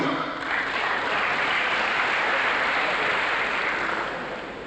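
Audience applause at a university inaugural lecture, a broad sustained wash of clapping from a large hall that fades gradually toward the end.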